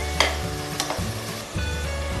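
Ground paste for mushroom pulao sautéing in a hot pan, a soft steady sizzle with a few brief stirring scrapes of a spoon, close and quiet with no talking.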